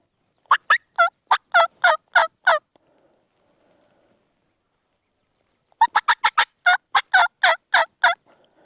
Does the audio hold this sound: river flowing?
no